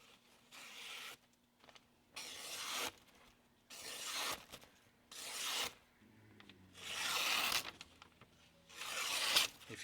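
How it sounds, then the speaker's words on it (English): A handmade knife ground from an old file slices through paper in a series of separate rasping, rubbing strokes, each about a second long with short pauses between, close and fairly quiet with no talk. "it's slicing through this paper really nicely"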